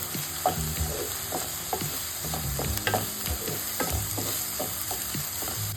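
Sliced onions and curry leaves fry in a pan with a steady sizzle while a spoon stirs them in repeated scraping strokes, close and moderately loud, with no one talking.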